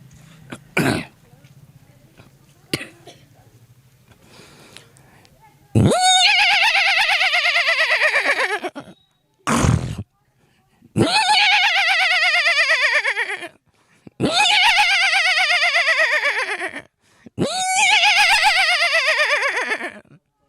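A voice imitates a horse's whinny several times in a row, loud, close, strained harmonic bursts that descend in pitch, each lasting about two seconds.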